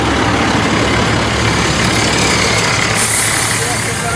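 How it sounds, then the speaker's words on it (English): A fire truck's heavy engine idling outdoors near a forest fire, a loud, continuous low rumble with a constant broadband roar and no clear rhythm. "Guys, fire truck."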